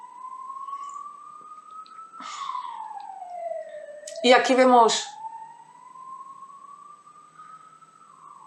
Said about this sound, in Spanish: que suena una ambulancia